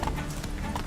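Roach, a horse in The Witcher 3 video game, walks with quick, soft clip-clop hoofbeats in a brief burst, fairly close and moderately loud against a light game ambience.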